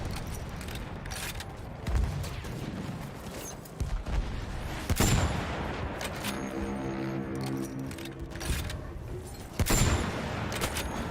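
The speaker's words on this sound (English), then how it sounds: "Massive anti-tank rocket" An anti-tank rocket fires and explodes in Battlefield 2042, heard as sharp booming bursts and gunfire-like cracks scattered through loud, busy battle noise with a brief mechanical hum in the middle.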